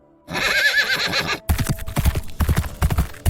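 A horse neighs loudly, then hooves gallop in a quick uneven rhythm, close and strong, in a dramatic telling of a Three Kingdoms battle.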